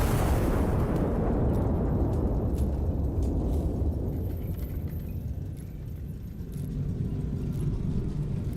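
Heavy artillery firing in the Iron Nest video game, one deep booming blast that rumbles loudly and slowly decays over several seconds, with no talk.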